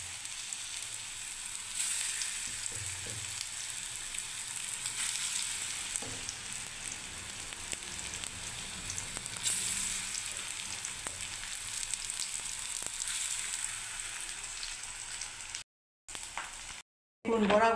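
Small chana dal lentil fritters sizzle in hot oil in a pan, a constant crackling hiss that holds steady with occasional stirring clinks and a voice speaking over it, briefly cutting out near the end.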